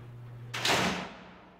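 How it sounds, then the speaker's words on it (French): A heavy prison door at Richmond prison slams shut in one sharp, loud, close impact that rings out and fades over about a second, with no voices. "Les portes se ferment en claquant."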